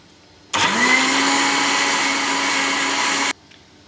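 A kitchen blender whirs steadily for about three seconds, blending a yogurt mixture with two spoonfuls of yogurt, starting and stopping abruptly, close and loud with no talking.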